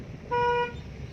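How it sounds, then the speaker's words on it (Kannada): A single car horn honks steadily for about a third of a second, loud and close, over light outdoor background noise. "ಹಾರನ್ ಮಾಡ್ತಾ ತಗೋ"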